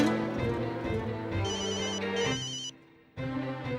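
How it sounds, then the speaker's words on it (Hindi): A mobile phone ringtone plays loudly and alone in a comedy scene, a melodic electronic tune that cuts out briefly near the end before resuming. "जीनी फोन उठाओ"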